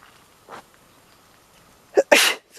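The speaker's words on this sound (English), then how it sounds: "excuse me, sneezing" A single person's sneeze, close and sharp: a faint early breath, a quick inhale, then one loud explosive burst near the end in an otherwise quiet setting.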